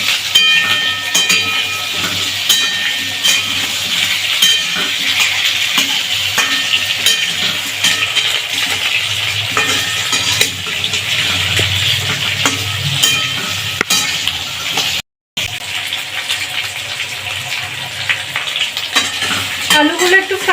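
Potatoes frying in hot oil in a pan for a jackfruit curry, a loud steady sizzle with stirring scrapes throughout, close-up, one brief dropout near the end.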